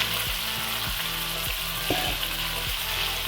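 Chicken pieces on the bone sizzle steadily in hot oil over medium heat, with repeated scraping strokes of a spoon stirring the pan at a regular rhythm, close and continuous.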